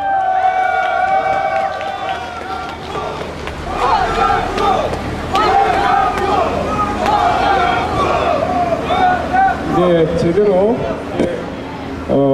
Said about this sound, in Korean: 환호가 터지고 분위기가 살아나고 있습니다.